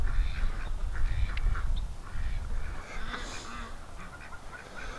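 Several ducks quack and honk in a loose, overlapping chatter at close to moderate range, over a steady low background rumble in their winter enclosure.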